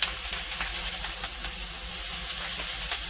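Chicken pieces and ham sizzling in a hot skillet, a continuous bright hiss with faint clicks of stirring, close and steady throughout without speech.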